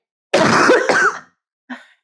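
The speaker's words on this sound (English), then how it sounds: "You cough, I cough, we all cough." A harsh, raspy cough close to the microphone, followed after a short pause by a smaller, quieter throat noise.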